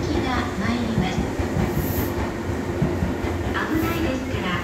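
A JR E233/E231-series 15-car Shonan-Shinjuku Line electric commuter train rumbles steadily nearby as it pulls into a Japanese station platform, with continuous rolling noise and faint high squeals over the clatter.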